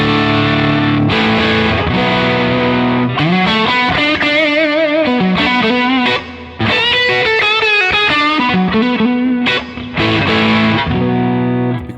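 Overdriven electric guitar run through a Jam Boomster MK2 boost pedal set to its mid-boost position, pushing the amp into overdrive; loud, steady chugging chords and riffs with a couple of brief pauses, no voices.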